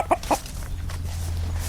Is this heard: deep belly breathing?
no